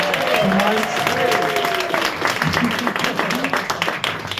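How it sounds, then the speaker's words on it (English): Crowd at a stand-up comedy night in a pub applauds the MC, a loud, sustained wash of clapping with some cheering and voices woven through it. "Can we just give a round of applause for Billy, who's been a great MC so far tonight?"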